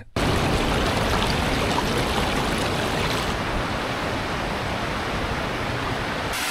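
A waterfall in Asturias roars as a loud, dense, continuous rush of water that stays steady throughout after a brief quiet start.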